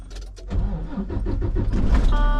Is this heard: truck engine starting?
yes